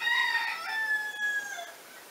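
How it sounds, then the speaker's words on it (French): A single rooster crows nearby, a loud drawn-out cock-a-doodle-doo that rises and then trails off, heard on its own with no talking. "Et ça c'est un coq qui chante"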